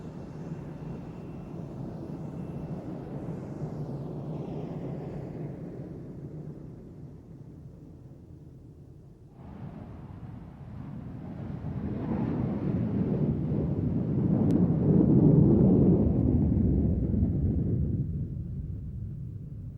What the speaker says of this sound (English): The A-18A Hornet, this one comes from the Spanish Navy